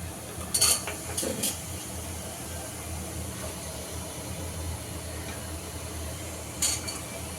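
Green peas go into a hot pan for pea rice and are stirred. A low sizzle runs underneath a few clattering scrapes and knocks of a utensil against the pan, quiet and close.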